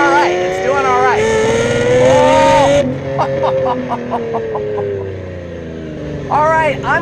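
A Lamborghini Murcielago V12 engine drives in rear-wheel-drive mode, loud and close, with rising revs, a sharp drop as it shifts, rapid burbling pops on the overrun, then another climbing rev near the end.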